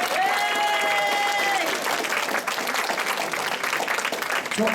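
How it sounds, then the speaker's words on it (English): Wedding guests break into a round of applause and cheering at a reception, dense clapping filling the room while a brief tonal whistle or hum sounds early on, continuous and fairly loud. "A round of applause for Patrick there."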